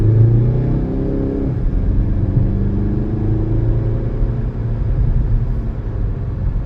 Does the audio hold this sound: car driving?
yes